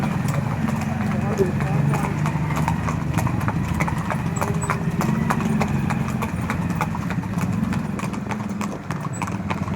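Several horses on a group ride through a village clip-clop steadily and loudly, their hooves beating a fast, continuous rhythm with people talking over the top.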